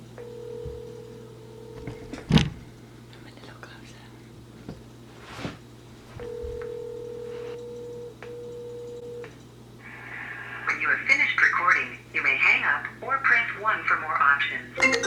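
A computer placing a phone call: a sharp tone burst, then a long ringback tone, followed by people talking over a call line.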